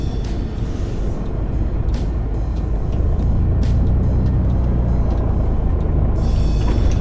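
A coach in Fernbus Simulator rolls over old cobblestones, a steady low engine drone with a dense rumbling texture that grows slightly louder partway through, with no talk over it.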